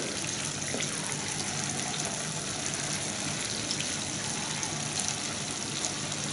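Piped dessert dough frying in a pan of hot oil gives a steady, loud, dense sizzle that holds evenly from start to finish, with no voices.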